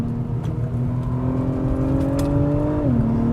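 Acura TLX Type S engine in sport mode, a steady loud revving drone whose pitch climbs gradually under acceleration, then drops sharply near the end as the gear shifts, heard from inside the car with no talk.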